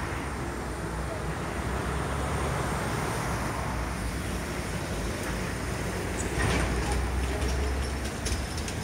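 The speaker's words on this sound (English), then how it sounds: "Check out that big truck coming right up. Oh, listen to that exhaust." A big truck with a loud exhaust drives past near the Skeoch roundabout in Stirling, amid steady roadway noise that swells toward the end, with a voice talking over it.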